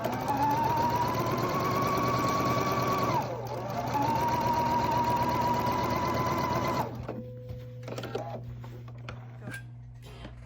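Domestic sewing machine stitching quilt pieces together for a Texas Star quilt, a steady close mechanical whir that dips briefly mid-run, then stops, leaving quieter handling clicks and a low hum.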